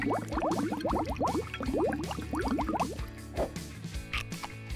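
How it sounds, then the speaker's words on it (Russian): Clear fizzy soda poured into a small glue bottle makes a fast run of rising gurgles and drips. The pour continues for several seconds, then thins into quieter fizzing and trickles. "Наливаем бесцветную газировку."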